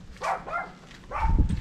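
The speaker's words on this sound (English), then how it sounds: "I don't know where this dog is." A dog barking on Diani Beach, Kenya: two quick, mid-distance barks about a second apart, with no one talking.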